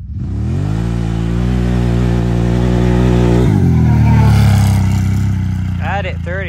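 A Can-Am Outlander 1000 ATV engine revs hard and close, a loud steady climbing drone that shifts pitch partway through and holds strong, with a voice cutting in near the end.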